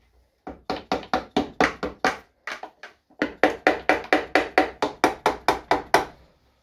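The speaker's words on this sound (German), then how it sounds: "dann muss ich noch mal ein bisschen klopfen" Close, sharp knocks hammered onto a stuck part of a Piaggio Sfera scooter that won't start: roughly twenty quick raps in two steady bursts, separated by a short pause, with no talking.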